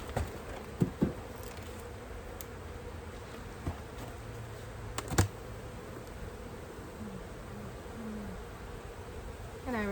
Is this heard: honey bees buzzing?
yes